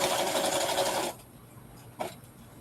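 A sewing machine stitches a straight seam around the body of a fabric bag, whirring steadily for about a second before stopping, followed by a quiet pause and a single soft knock.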